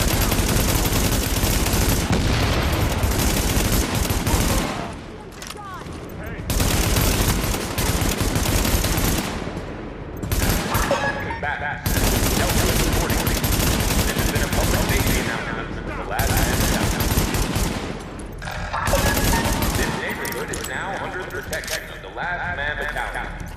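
Sustained automatic gunfire from The Division rattles loud and dense in long bursts, with a few short pauses, and voices come through between volleys.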